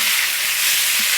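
Shrimp sizzle in a pan with melting butter while being stirred for cauliflower fried rice, a loud, steady, hissing fry with faint scrapes underneath.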